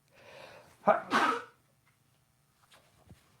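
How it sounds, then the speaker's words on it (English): A single close sneeze from a man, a sharp burst followed by a short exhaled tail, after a moment of quiet breathing, then faint shuffling. "Can't even trust myself not to sneeze on the air."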